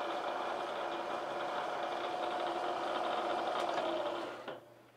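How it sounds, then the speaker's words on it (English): A milling machine with a worn bearing runs with a steady mechanical hum and faint whine, close and continuous, then winds down near the end. "your milling machine needs a new bearing"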